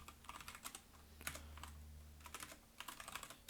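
Computer keyboard typing while entering Cisco router configuration commands in Packet Tracer: a steady run of close, crisp key clicks in uneven bursts over a low background hum, with no voices.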